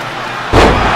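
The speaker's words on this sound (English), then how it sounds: "Straight jacket, back body drop." A wrestler slammed onto the mat by a back body drop in a wrestling match, one loud heavy thud that booms out and hangs briefly with crowd noise behind it.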